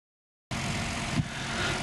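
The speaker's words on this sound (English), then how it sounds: "This red and black Super 701 that you see taxiing by is powered by the 130 horsepower UL-powered engine" A small propeller engine, a 130 horsepower UL-powered engine on a Super 701 light homebuilt aircraft taxiing, drones steadily at close range, starting abruptly and holding a constant rough hum for a couple of seconds.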